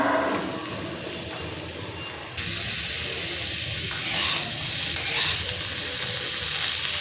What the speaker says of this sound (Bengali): তারপরে কুমড়োগুলো অল্প অল্প করে ছেড়ে দিচ্ছি